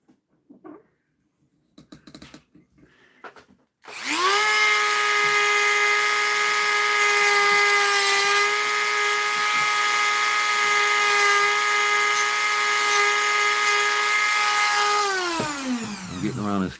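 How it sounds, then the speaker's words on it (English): A Dremel rotary tool grinds a knife blade in a bladesmithing shop, a loud steady high-pitched whine that spins up after a few faint handling noises, holds for about eleven seconds, then winds down at the end. "Just takes a steady hand with the Dremel."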